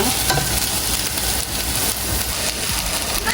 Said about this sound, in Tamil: சின்னதாக தக்காளி பழமும் கொஞ்சம் வெந்தயமும் போட்டேன்